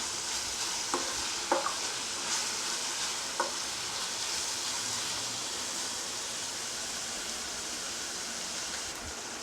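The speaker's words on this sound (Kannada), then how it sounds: "ಗ್ಯಾಸ್ ಸ್ವಲ್ಪ ಮೀಡಿಯಮ್ ಫ್ಲೇಮಲ್ಲಿ ಇಟ್ಕೊಂಡ್ಬಿಟ್ಟು ಚೆನ್ನಾಗಿ ಫ್ರೈ ಮಾಡ್ಕೊಳ್ಳಿ" Greens frying in a pan over a medium gas flame, a steady broad sizzle running throughout with a few soft scraping stirs early on, close and even, no voices.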